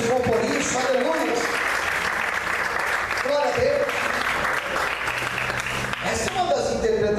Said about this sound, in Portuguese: Você pode aplaudir e exaltar o Senhor por isso.